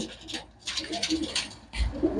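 Pigeons coo in short, low bursts, close by, with background chatter and some noise around them at what sounds like a pigeon seller's spot.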